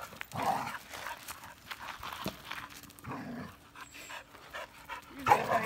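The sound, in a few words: dogs playing and panting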